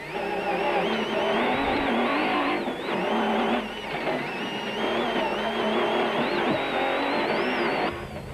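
Nissan rally car engine heard from onboard during the 2002 Caledon 400 rally, revving hard and continuously with pitch rising and dropping through gear changes, loud and close.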